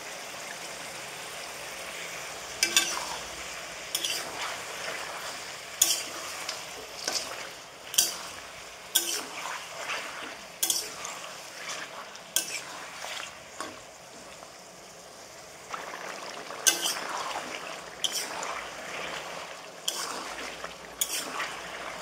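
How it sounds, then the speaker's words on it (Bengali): Chicken pieces frying lightly in a pan for spinach chicken, a soft continuous sizzle with scattered stirring scrapes and clinks of a utensil against the pan, close and without talk. "তাই আমি মাংসটা একটু হালকা করে ভেজে নিই"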